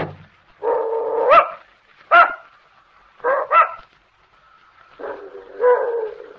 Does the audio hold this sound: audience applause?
no